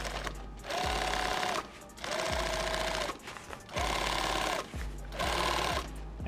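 Sewing machine stitching down the webbing on a kit bag: four separate runs of steady, whirring stitches, each ending in a short pause, close and fairly quiet, with no talk.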